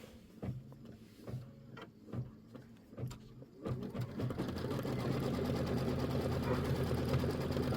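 An embroidery machine runs a tack-down stitch for a background, starting with separated ticking stitches that build into a steady, continuous mechanical whir, fairly quiet and with no talk.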